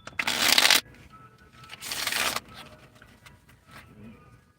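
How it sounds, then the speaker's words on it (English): Cards being shuffled, two loud riffling bursts about a second apart, followed by softer handling noises, with no talk. "I'm shuffling."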